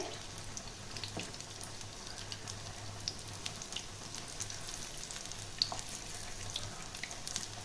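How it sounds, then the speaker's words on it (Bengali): Raw banana kofta balls fry slowly in hot oil, a steady soft sizzle with faint crackles and a low hum underneath, continuous and moderately quiet, with no voices. "আস্তে আস্তে ভাজতে হবে।"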